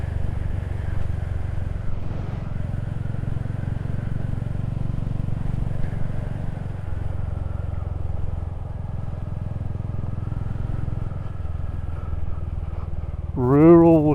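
A Royal Enfield Hunter 350 motorcycle cruises on rural roads, its engine giving a steady low rumble with wind noise throughout, and a rider speaks over it.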